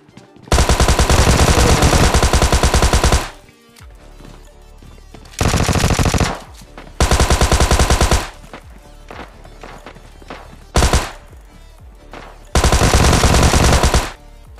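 Rapid bursts of Thompson submachine gun fire in the mobile shooter PUBG Mobile Lite, several loud sustained volleys separated by short pauses, quieter game footsteps and movement between them, no speech.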